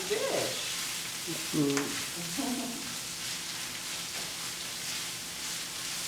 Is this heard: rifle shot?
no